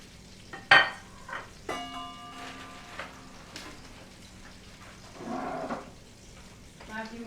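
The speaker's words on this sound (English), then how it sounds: "You can hear the sizzle" Spaghetti carbonara ingredients sizzle and crackle in a hot pan with stirring and clinking utensils, a steady moderate fry under occasional background voices.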